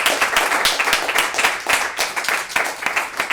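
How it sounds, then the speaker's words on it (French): Steady applause from a crowd at a parliamentary debate competition in Geneva, dense clapping that holds at an even level throughout without pause. "Également des applaudissements pour l'opposition"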